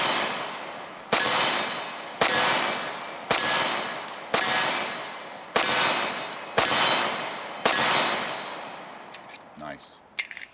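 Rapid handgun fire from a Dan Wesson 1911 pistol: seven sharp, loud shots spaced about a second apart, each ringing briefly before the next, followed by faint handling noises.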